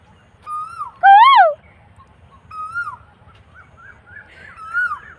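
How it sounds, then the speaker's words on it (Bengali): An Asian koel gives one loud rising call followed by several softer, shorter whistled notes, with quiet pauses in between, no voices. "কোকিল ডাকছে, দেখো।"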